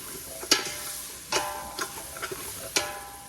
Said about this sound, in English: Let this melt and then we'll start stirring this in.